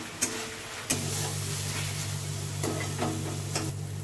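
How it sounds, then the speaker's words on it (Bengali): Masala spices stir-fried in oil in a pan for a Bengali silver carp curry, a steady sizzle with a low hum underneath and a few sharp clinks of a spatula scraping the pan. "এবার খুবই ভালো করে মশলাটা আমি কষিয়ে নেবো"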